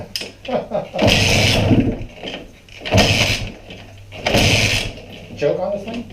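A 2017 KTM 125sx two-stroke dirt bike with the choke on being kicked over, three bursts of cranking and sputtering that fail to catch, separated by quieter pauses with clattering in between.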